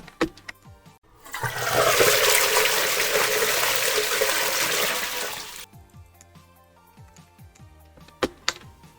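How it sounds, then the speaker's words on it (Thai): A toilet flushes in a Roblox game with a loud rushing whoosh that lasts several seconds and then cuts off abruptly, followed by a few scattered clicks. "กดชักโครกบ้างไหมเนี่ย กดชักโครกก่อน"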